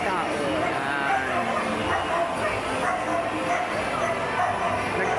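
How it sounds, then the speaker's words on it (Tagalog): Small dogs yip and bark repeatedly amid a busy, crowded indoor space, with people chattering throughout. "Narinig nyo yung mga kahol ng aso."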